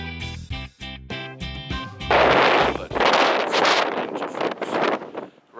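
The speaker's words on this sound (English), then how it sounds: "You can hear this because it's kind of windy out" Gusty wind buffeting the microphone in loud broadband roars at Red Rocks Amphitheatre in the Colorado foothills, following a brief stretch of music at the start.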